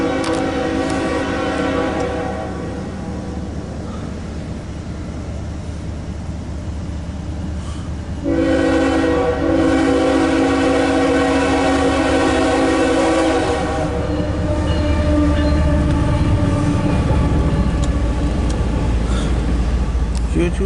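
A CSX Q217 empty autorack freight train rolls past westbound, its loud horn blaring in two long sustained blasts over the steady rumble and clatter of the cars.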